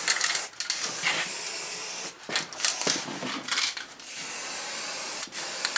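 An aerosol spray paint can hisses in repeated bursts while coating a Triumph motorcycle bash plate, close and steady with short pauses between passes.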